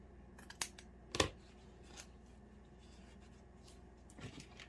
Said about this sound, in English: So I would go over probably a 1/2 inch and just cut straight up.